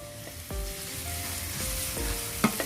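Fish sauce, oyster sauce and sugar hit a hot pan for a basil meatball stir-fry, giving a loud, steady sizzle with a few clanks of a spatula and a sharp knock near the end.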